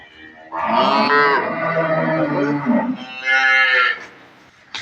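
A dairy cow on a farm lets out two loud, drawn-out moos close by, the first long and the second shorter after a brief pause, with no talking over them.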